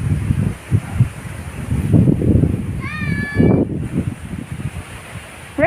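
Gusty wind blows outdoors in a backyard on a windy afternoon, a steady rushing roar with buffeting bursts on the microphone and a brief bird chirp partway through.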